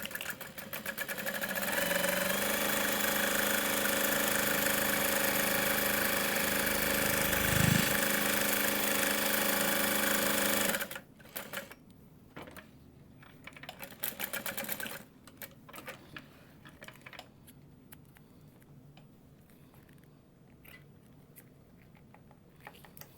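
Sewing machine running steadily and loudly for about eleven seconds while a tote bag is stitched, then stopping abruptly, leaving quiet room noise with faint handling clicks.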